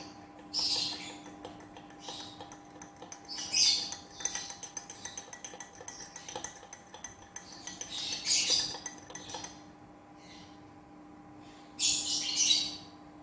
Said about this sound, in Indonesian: Oke, saya aduk.